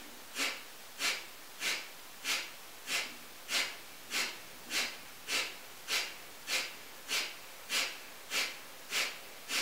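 Kundalini yoga breath of fire: sharp, forceful nasal exhales repeat in a steady fast rhythm, about sixteen evenly spaced breaths, close and fairly soft with no talking.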